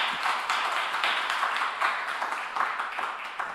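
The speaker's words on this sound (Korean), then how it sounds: "하나님께 영광의 박수하겠습니다." A church congregation at a Sunday worship service claps in steady, sustained applause, a dense patter of many hands filling the room throughout.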